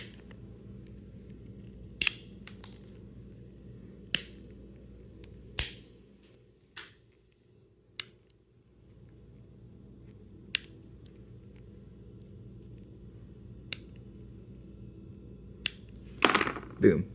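Scissors or cutters snip plastic pieces off a magnetic Pyraminx puzzle, making sharp, sparse clicks spread across the clip over a low, quiet hum.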